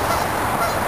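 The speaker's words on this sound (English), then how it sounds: "So we got a couple Canadian geese down here." Pair of Canada geese honking near an old railroad grade outdoors, a steady dense wash of calls held at moderate loudness throughout, no talk.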